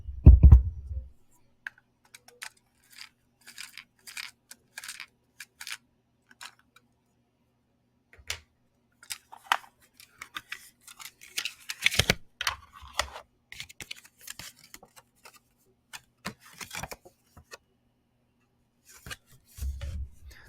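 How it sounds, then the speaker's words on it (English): A pencil turns a cassette tape reel to wind it back, giving sparse, dry plastic clicks and ticks in short clusters between quiet gaps, with a few low bumps near the start and end. "You just use a pencil to spin it."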